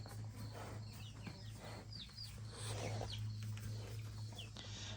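Backyard chickens cluck softly and intermittently with a low steady hum underneath, the calls faint and spread over several seconds with no talking.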